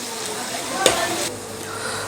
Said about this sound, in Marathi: आता हे व्यवस्थित मिक्स करून घेऊया आणि हे परत छान परतून घेऊया